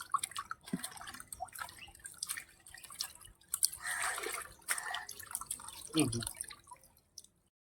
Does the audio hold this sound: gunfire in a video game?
no